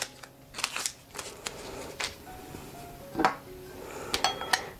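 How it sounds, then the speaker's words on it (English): Tape is peeled off a painted wine glass in short crackly tearing bursts, with small clicks and handling noises between them, close and fairly quiet. "Take the tape off."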